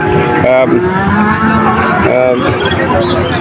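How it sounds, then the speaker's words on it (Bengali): Cattle and calves low repeatedly at a busy calf market in Churighata, Jashore, several loud moos rising over a dense, constant crowd murmur with nearby voices talking. "অনেক সুন্দর সুন্দর বাছুর এই হাটে আসে"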